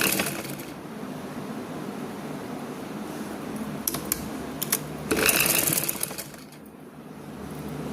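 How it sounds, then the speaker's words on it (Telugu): A sewing machine stitches along the top of a kurti in a steady, soft mechanical whir. A few sharp clicks and a brief louder burst break the run before it eases off near the end. "పైన అలా స్టిచ్ చేయాలి చూపిస్తానండి."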